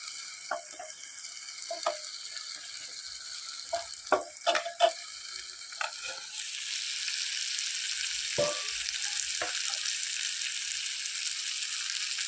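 Fish frying in a pan for a Kerala-style fish roast: a steady close sizzle and crackle runs throughout, with scattered clinks and scrapes of a utensil against the pan, the frying getting louder partway through.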